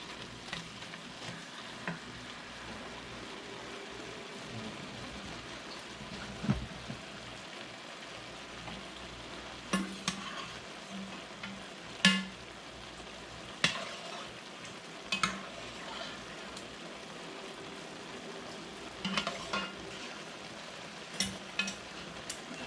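Ground meat for spaghetti sauce fries in a pan with a steady soft sizzle, broken by occasional clicks and scrapes as a utensil stirs it against the pan.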